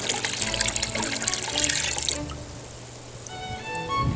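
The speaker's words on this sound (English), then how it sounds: "So now it's time to add the yeast mixture." A yeast and warm apple juice mixture is poured into cider, with a trickling, splashing liquid stream up close that stops partway and leaves faint drips and quiet clinks.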